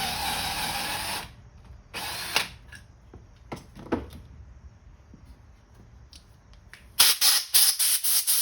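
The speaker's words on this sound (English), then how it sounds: "we take the extra step and we actually install a bronze bushing" A power drill whirs in short bursts while a bronze bushing goes into a Quadrajet carburetor, loud runs separated by quieter pauses and small clicks, with a final string of choppy high-pitched bursts.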